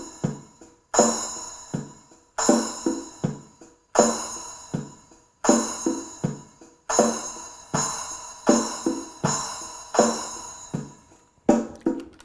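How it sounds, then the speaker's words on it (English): Boss DR-01S rhythm machine plays a steady, looping acoustic percussion groove, with a strong hit landing at the start of each bar and lighter strikes between them. The pattern repeats clearly and stays up close, with no voices over it. "We go on and play the percussion sound."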